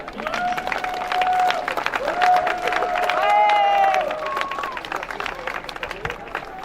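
Audience applause at a prize-giving for the Châtel historic hill climb, a crowd clapping steadily with cheering and background chatter mixed in, while a tonal whistle-like sound rises and falls through the middle.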